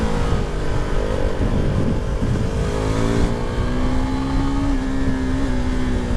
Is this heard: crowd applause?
no